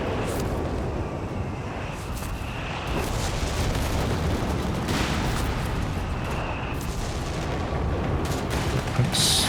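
Continuous rumbling battle din from Company of Heroes 3, with machine gun fire blended into dense explosions and artillery booms, loud and steady throughout without a clear separate burst rhythm.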